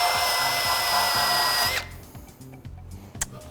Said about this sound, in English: So we'll strip some paint off around this hole as well.